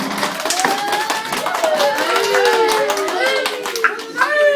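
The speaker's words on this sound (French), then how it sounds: "on peut les applaudir" Scattered hand clapping from a small group of schoolchildren runs throughout, lively and uneven, while several children talk and call out over it.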